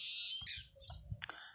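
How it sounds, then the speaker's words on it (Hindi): Small birds chirp faintly in the background outdoors, a few short high tweets and calls scattered over a quiet low hum, with no talking. "थोड़ा सा बैकग्राउंड में पक्षियों के बोलने की आवाज़ आ रही है"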